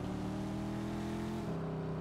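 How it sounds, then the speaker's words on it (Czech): A car engine idling and easing along at low speed while parking in a garage in the Mafia II video game, a steady droning hum that lightens slightly toward the end, with no talk. "Parkuju auto v garáži, nice."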